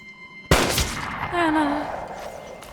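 A single sharp gunshot cracks in a low-budget film scene where a character is shot through the chest, followed by a ringing, decaying tail and faint tonal residue.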